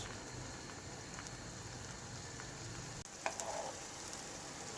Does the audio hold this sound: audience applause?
no